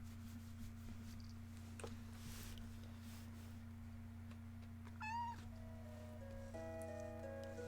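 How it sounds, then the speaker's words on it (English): A pet cat meows over a steady low electrical hum, giving a few faint, scattered meows, one rising and falling cry standing out near the middle, amid quiet room noise and no talk. "He's my kitty."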